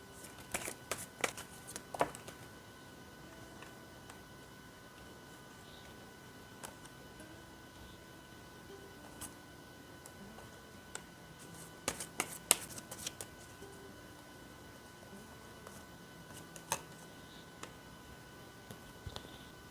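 Tarot cards are shuffled and handled close by in a quiet room, with soft riffling bursts and scattered light taps and clicks between longer pauses. No voices.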